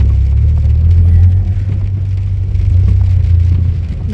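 Steady rain falls over a traffic-jammed street in foggy Baguio, a continuous hiss under a deep rumble of idling vehicles, with no talk heard.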